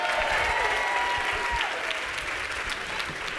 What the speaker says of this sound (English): So, first of all, one more round of applause for these guys.